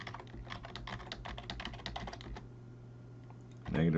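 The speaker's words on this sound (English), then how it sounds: "let's run it, type in a bunch of values" Rapid keystrokes on a computer keyboard entering a series of values, a dense run of close clicks for a little over two seconds, then a pause before a brief louder thump near the end.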